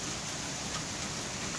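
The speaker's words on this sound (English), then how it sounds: "it's just still pouring" Heavy rain pouring steadily during severe weather, a continuous broadband hiss of downpour with no pauses, close and even throughout.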